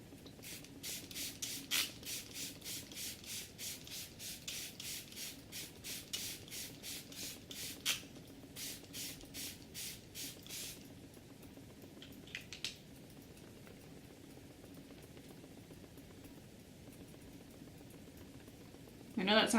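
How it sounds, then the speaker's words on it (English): A small mini-size setting spray mister pumps out a fine mist of primer water, about a dozen short rhythmic spritzes close to the microphone, followed by a quieter stretch. "finish it off with my Photo Finish Primer Water Spray"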